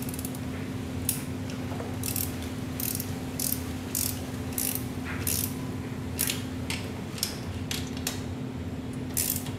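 A torque wrench clicks and ratchets as it tightens the cylinder bolts of a 100cc GY6 scooter big-bore kit in an X pattern, a string of sharp close clicks and ratcheting bursts over a steady low hum.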